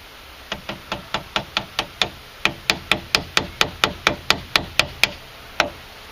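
A hammer tapping a strut clip onto a brake hose during front strut replacement on a 2001-2006 Hyundai Santa Fe, around twenty sharp metallic knocks in a steady, fairly quick rhythm, close and loud.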